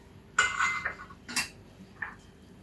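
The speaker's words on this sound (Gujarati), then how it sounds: "રાઈને થોડી આપણે ફૂટવા દઈશું।" Mustard seeds crackle in hot oil in a nonstick pan, with a few faint, scattered pops and sputters separated by short pauses.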